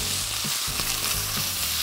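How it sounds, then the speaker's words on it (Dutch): Courgette sizzling and frying steadily in a hot pan while rice cooks nearby, a continuous close crackle with a few soft stirring bumps. "Kijk, die courgette die begint mooi een beetje bruin te worden."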